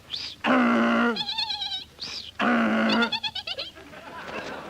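A man imitates a donkey's bray in a British comedy sketch, giving two loud, close, wavering hee-haw calls in succession, each tailing off into shorter stuttering bleats.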